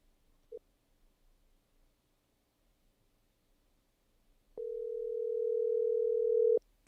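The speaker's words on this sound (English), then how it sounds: "We could be able to hear the ringing, guys." A telephone line tone sounds steady and loud for about two seconds near the end, after a mostly quiet stretch with a short blip early on.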